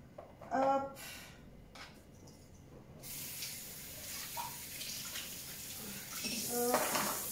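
Dishes rinsed under a running kitchen tap while clearing up after taking down a Christmas tree, a steady hiss of water with light clinks of crockery, and a voice speaking briefly nearby.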